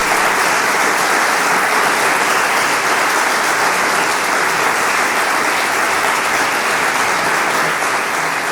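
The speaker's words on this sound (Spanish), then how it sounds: "La recibimos, por favor, con un fortísimo aplauso." Loud, sustained applause from an audience welcoming a pianist at an inauguration ceremony in Oviedo, Asturias, a dense wash of clapping that holds steady throughout.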